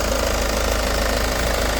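A car engine with a blown head gasket leaking compression into the exhaust idles close up in a repair shop, a loud, continuous, rough knocking throb with steady pulsing and no speech.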